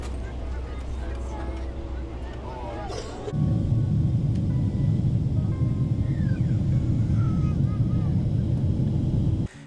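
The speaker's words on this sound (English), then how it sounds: "Enough of the prep talk, let's buckle up and prepare for takeoff." A Singapore Airlines Boeing 777-300ER heard from the economy cabin on takeoff: a quieter hum, then a sudden swell into a loud, steady roar of the engines at full thrust that holds until the end.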